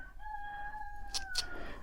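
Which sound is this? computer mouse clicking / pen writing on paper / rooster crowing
rooster crowing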